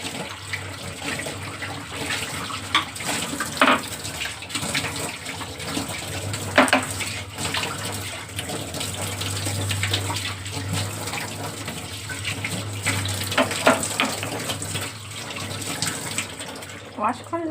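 Tap water runs steadily into a sink while kitchen items are washed, a continuous splashing hiss broken by clinks and knocks of the utensils, with a voice talking over it.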